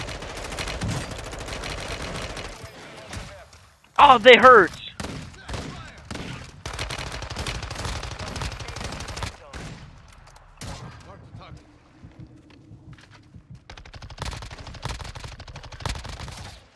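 Bursts of rapid Call of Duty: Warzone gunfire crackle on and off amid game sounds, with people talking over the action.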